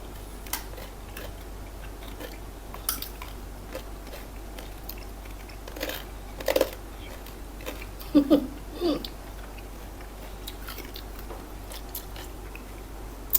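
Crisp bites and chewing of crunchy fried fish with star gooseberry: a few quiet, separate crunches spaced several seconds apart, the clearest pair close together, over a soft, steady background.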